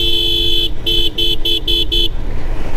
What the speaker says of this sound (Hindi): सुना गाइस, काफी सही एंड स्वीट सा हॉर्न है।